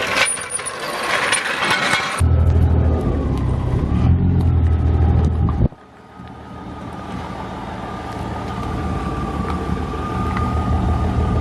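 A drift car is rolled back and forth to settle its suspension, a heavy low rumbling and creaking from the car for several seconds, then quieter mechanical noise in a garage.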